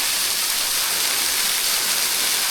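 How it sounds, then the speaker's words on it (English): A waterfall on a hiking trail in Arkansas gives off a constant, dense rushing hiss, loud and close, with no other sounds and no voices. "we made it to the bottom of the waterfall"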